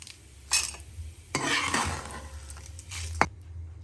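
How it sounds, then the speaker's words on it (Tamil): Golden fried urad dal is scooped from an oily pan onto a plate for onion chutney: a few metal scrapes and clinks against cookware, with a soft sizzle underneath and quiet pauses between the strokes. "இதை எடுத்து ட்ரான்ஸ்ஃபர் பண்ணிக்கலாம் ஒரு தட்டில்"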